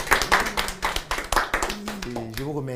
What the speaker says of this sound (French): On va commencer par applaudir pour tous ceux qui ont échoué.